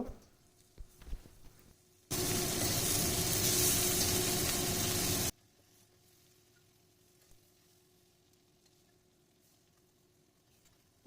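Fish frying in a pan of oil, a loud dense sizzle that starts abruptly, holds steady for about three seconds, then cuts off to a quiet room.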